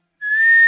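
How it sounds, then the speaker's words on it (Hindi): A person gives a single short whistle, a clear steady tone lasting about half a second, loud and close, with no one talking. "किसने बजाई सीटी?"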